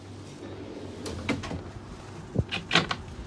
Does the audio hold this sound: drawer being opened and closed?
yes